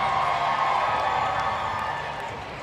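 An indoor crowd at a roller derby bout cheers for the Vaudeville Vixens, a dense sustained roar of shouts and whoops that fades slightly at the end.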